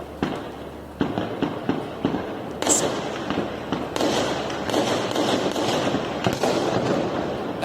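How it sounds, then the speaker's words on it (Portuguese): Repeated sharp bangs and cracks of gunshots at night ring out over a continuous noisy background, echoing outdoors in the distance with faint voices present. "Escutem os tiros, gente, durante a madrugada"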